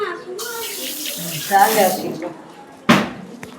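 Water runs from a tap into a hostel hand-washing sink, a steady close splash that changes briefly in the middle and ends with a sharp burst, with no talk over it.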